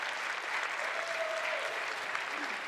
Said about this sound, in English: let's get a round of applause with that